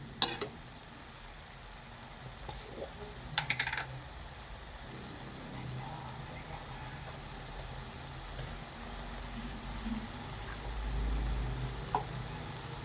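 Fenugreek leaf palya with pepper powder fries in a pan, giving a faint, steady low sizzle with a few soft scrapes and taps of a spoon, quiet and close, with no voices.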